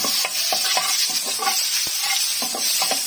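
Minced garlic, about one and a half tablespoons, sautés gently in a pan with a steady close sizzle, while a spoon stirs in short repeated scrapes over it and no one speaks.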